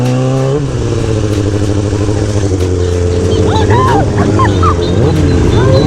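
A Kawasaki 636 motorcycle rides on a street, its engine loud and close with a rising, shifting whine as it accelerates and the revs change, under a rider's talking.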